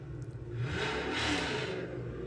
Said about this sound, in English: that's a Debbie Taylor burnout